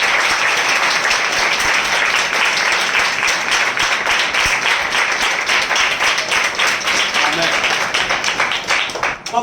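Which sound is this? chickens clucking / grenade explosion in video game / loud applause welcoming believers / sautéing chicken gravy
loud applause welcoming believers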